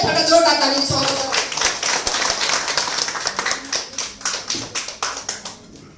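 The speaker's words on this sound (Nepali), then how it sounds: "एकपल्ट जोरदार तालीले स्वागत गरौँ" Audience applause welcoming a speaker at a program hall, starting as dense clapping and thinning into slower, distinct claps toward the end, with voices audible over it.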